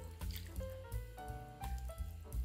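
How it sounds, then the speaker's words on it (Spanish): Chicken broth poured over chicken in a baking dish gives a soft, close liquid splashing and trickling that continues for a couple of seconds with small gurgling shifts. "Vamos a echarle también un poquito de caldo de pollo"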